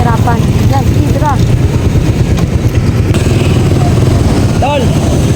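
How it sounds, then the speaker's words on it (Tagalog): A motorcycle engine idling and revving as the bike turns around on a street during a rice distribution, a loud close drone under people shouting and calling out to one another. "Ikot mo na lang yung motor mo."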